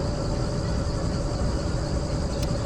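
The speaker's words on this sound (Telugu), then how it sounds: "ట్రైన్ అయితే స్టార్ట్ చేసేసింది" Moving train in the video game Choo Choo Charles, a steady, dense mechanical rumble with a faint high whine, continuous and fairly loud throughout.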